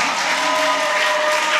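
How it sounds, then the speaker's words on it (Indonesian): Brief audience applause at a youth health dialogue event on anemia, a short continuous wash of clapping heard close and steady. "Tepuk tangan dong."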